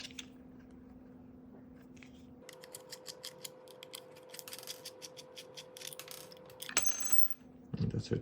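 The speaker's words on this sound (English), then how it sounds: "It's just these two screws we're going to loosen up." Small screws being loosened on the blade of an Andis T-Outliner hair clipper, with quiet metallic clicks and scrapes, a steady hum, and a few sharper clatters near the end.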